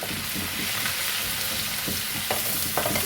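Ginger garlic paste fries in a pan for chicken pickle, a steady close sizzle with occasional stirring clinks and scrapes, no voices.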